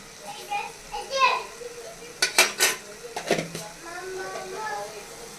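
Carrot halwa with cardamom powder stirred in a pan: a few close metallic scrapes and clinks of a spoon against the pan in short bursts, with a voice talking around them.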